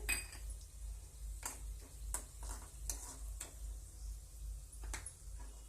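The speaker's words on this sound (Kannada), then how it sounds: "ಗೋಡಂಬಿ ಹಂಗೆ ಫ್ರೈ ಮಾಡ್ಕೊತಿದ್ದೀನಿ ರೀ" Cashews fry in a pan, a faint sizzle under a low kitchen hum, broken by several sharp clicks and taps from a stirring spoon against the metal.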